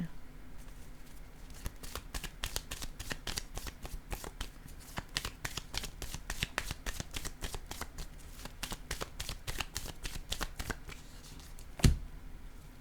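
Tarot cards are handled and shuffled in a rapid, steady patter of soft card snaps, close but fairly quiet, with one sharper tap near the end.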